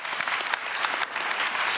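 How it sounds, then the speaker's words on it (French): A seated audience at a conference session gives a short burst of steady applause, a dense wash of claps heard from within the room. "Je crois qu'on peut vous applaudir."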